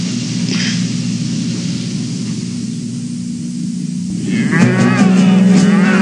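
Cattle in open cattle country, with a long steady hiss of static throughout and then a loud, close moo rising near the end.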